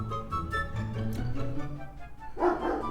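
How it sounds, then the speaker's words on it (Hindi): A dog barks in a short run of yips and bow-wows, as if answering another dog, fairly near and loud over a low background rumble, with no talking. "इसका किसी दूसरे कुत्ते से वार्तालाप हो रहा"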